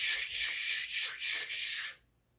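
A voice imitates pattering rain with a rapid hissing, rhythmic shushing in several pulses that cuts off abruptly into silence.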